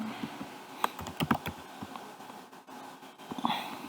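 Keystrokes on a computer keyboard as a name and details are typed into an online form, a quick irregular run of close, crisp clicks with short pauses between bursts.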